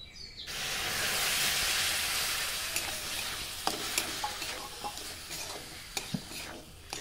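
Semolina that has been toasted in ghee is stirred in a pan after liquid milk is poured in, giving a steady sizzling hiss with scattered spoon scrapes and light clicks against the pan.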